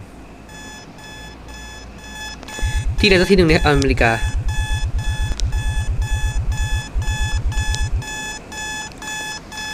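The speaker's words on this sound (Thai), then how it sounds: "ทำไมนาฬิกาปลุกฉันมันดังไวจังเนี่ย" A video game alarm clock in Roblox rings in rapid, evenly pulsing bursts for several seconds, with a voice briefly speaking over it and steady electronic tones underneath.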